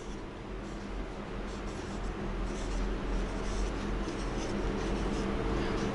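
A pen scratches steadily across paper as a word is written by hand, a continuous close, soft rasping texture without pauses.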